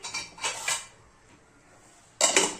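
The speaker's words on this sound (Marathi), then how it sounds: "झाकण ठेवून" Metal clatters twice, a lid scraping and clanking onto a pan, with a quiet pause between the two bursts.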